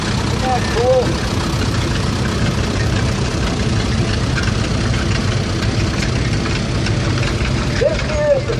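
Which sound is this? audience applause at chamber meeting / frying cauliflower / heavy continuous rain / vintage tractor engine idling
vintage tractor engine idling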